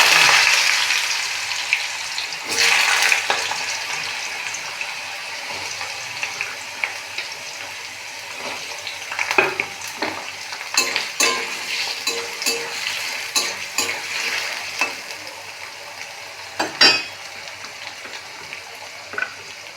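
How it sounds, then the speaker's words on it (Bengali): Potatoes frying in hot oil with black cumin in a wok, a continuous bright sizzle with scattered scraping and stirring clatter, close and loud, no voices. "আলুগুলোকে আমি ভালো করে লাল লাল করে ভেজে নেব।"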